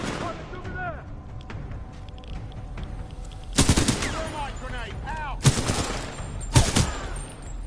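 A twin-barrel SMG firing in the Mobile Suit Titan video game, three loud rapid-fire bursts separated by short pauses, with quieter mechanical game sounds between them.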